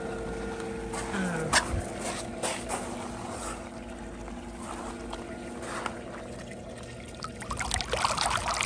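A Summer Waves sand filter pump set to filtration runs with a steady, fairly quiet hum while water gushes out under good pressure, with splashing and trickling throughout and occasional louder bursts.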